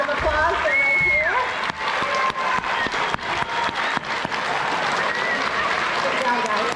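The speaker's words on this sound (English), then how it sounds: "If you can give them a round of applause, they're right here." A school crowd claps for the third grade teachers at a 3rd grade school performance, with sustained applause, scattered cheers and some voices mixed in.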